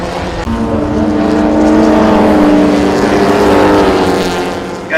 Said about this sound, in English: Gagan starts to lap the field and that Zephyr is having trouble.